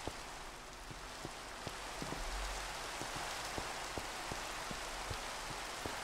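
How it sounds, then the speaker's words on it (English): Rain pours in Minecraft, a dense and steady wash of hiss with scattered sharper drop ticks recurring throughout, close and even in level, with no voices. "I love rain. Yeah, it makes nice noises."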